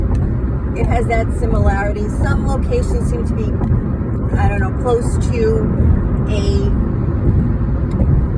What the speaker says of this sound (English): you can hear the traffic in the background